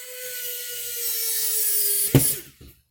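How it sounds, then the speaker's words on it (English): A power screwdriver drives a screw with a rising, steady whirring drone for about two seconds, ending in a sharp clack and brief rattle as the screw seats, then quiet. "I'm going to use my power screwdriver because I'm a lazy guy."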